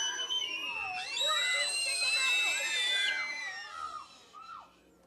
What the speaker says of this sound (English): 4 screaming children?